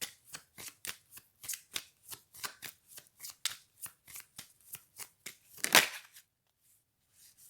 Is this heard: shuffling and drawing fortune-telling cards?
yes